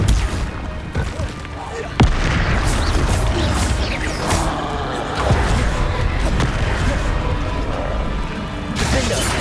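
Combat effects in the Hogwarts Legacy video game, including the Protego shield spell: a sharp impact followed by continuous clanking, whooshing spell and battle noise under a voice shouting.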